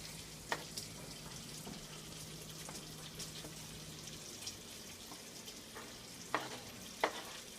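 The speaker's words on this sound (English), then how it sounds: "So now we're gonna add in our butter and chopped onions." Soft, steady sizzling of butter and chopped onions frying in a pan, with occasional clinks and stirring sounds, quiet and close.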